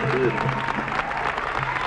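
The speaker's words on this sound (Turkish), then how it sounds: "herkes alkışlasın bakayım" A crowd claps steadily and briskly, a dense patter of applause filling the whole moment.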